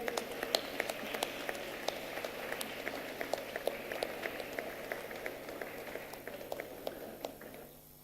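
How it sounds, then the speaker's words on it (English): Scattered applause from an audience honouring a team at a food science conference valedictory ceremony, a steady patter of moderate claps with sharper individual hits, fading out at the end. "A big round of applause for the team."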